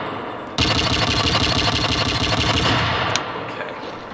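Fast automatic gunfire from the Modern Warfare 3 video game, played with a modded rapid-fire controller: a dense, loud, continuous burst of shots lasting about two and a half seconds, then tailing off with a sharp crack.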